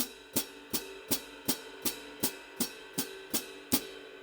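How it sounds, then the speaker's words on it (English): Steady, evenly spaced eighth-note strikes on the stepped hi-hat and ride cymbal, about eleven in a row, with a faint metallic ringing underneath, played alone at a moderate tempo. "Now we've got 8th notes on the stepped hi-hat with 8th notes in the ride,"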